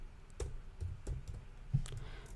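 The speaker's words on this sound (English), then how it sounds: "And the footer, you just have to type it." A handful of separate keystrokes on a computer keyboard, close and soft, spaced unevenly over a low background rumble, with no speech.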